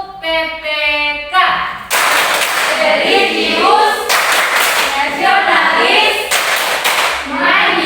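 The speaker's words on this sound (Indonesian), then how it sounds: "Ayo semua, tepuk tangan semua." A class of students claps their hands together in rhythmic bursts while chanting words in unison, the claps loud and close, with a teacher's voice leading between rounds.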